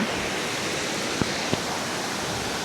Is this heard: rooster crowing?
no